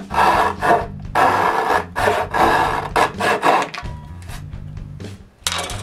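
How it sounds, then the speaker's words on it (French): A hand saw rasps through the ends of wooden dresser drawer parts in repeated back-and-forth strokes, close and loud, pausing briefly between bursts before a final few strokes. "je coupe un bout de chaque bout avec une scie à main"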